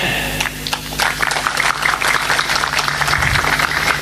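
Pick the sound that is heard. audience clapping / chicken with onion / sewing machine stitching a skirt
audience clapping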